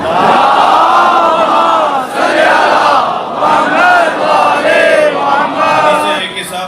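A large gathering at a religious majlis in Lahore loudly reciting salawat in unison, a dense roaring chorus of voices in waves, close and sustained.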